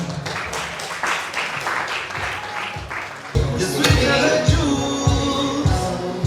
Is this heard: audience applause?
yes